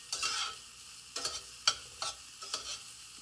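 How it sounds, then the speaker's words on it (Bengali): Whole mustard seeds fry in hot oil under a spoon, with about five quick bursts of loud crackling scrapes at a brisk, uneven rhythm. "একটু নেড়ে ছেড়ে ভেজে নেব"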